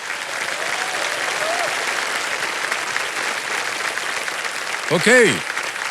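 Loud, sustained studio audience applause on the quiz show Kaun Banega Crorepati, a dense steady wash of clapping throughout, with a brief spoken word and a rising tonal sweep near the end.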